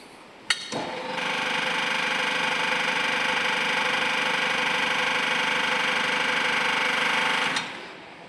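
Bode VP100/2 5000 kg welding positioner turning with its hydraulic pump running, a loud steady mechanical whine and hum that starts abruptly after a click, holds constant for about seven seconds, then cuts off.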